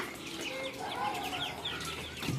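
Several chickens cluck and chatter nearby in overlapping, uneven calls, with faint rustling in the background.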